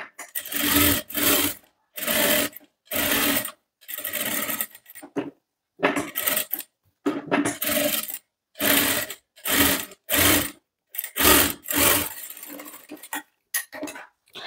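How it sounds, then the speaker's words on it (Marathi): A sewing machine stitches a sleeveless V-neck blouse in a long series of short, close, rhythmic bursts, each lasting about a second with quick gaps between them. "आता कट लावल्यानंतर आपल्याला इथे दाब शिलाई द्यायची आहे"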